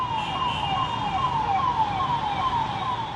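An ambulance siren wails continuously in a steady repeating up-and-down sweep, loud and fairly close over a background of traffic rumble, with no one speaking.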